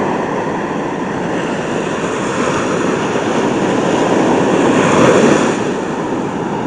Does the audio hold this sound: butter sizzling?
no